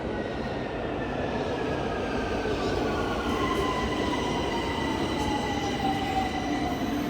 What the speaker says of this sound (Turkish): Evet, metro geliyor.